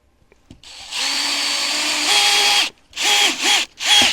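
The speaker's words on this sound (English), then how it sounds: "What I'm gonna do is I'm gonna pre-drill it" A power drill whirs up in a long burst, then three shorter bursts, pitch rising as it pre-drills into wood at a tiny cabin, close and loud.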